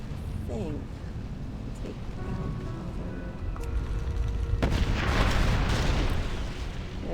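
A cannon booms in World of Warcraft's Deadmines dungeon, a sudden burst that swells into a rumbling roar over steady game ambience, with someone talking over it.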